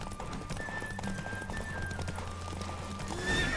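A horse gallops in The Witcher 3 game, hooves clip-clopping in a quick steady rhythm with a whinny, fairly faint under a wash of game background noise.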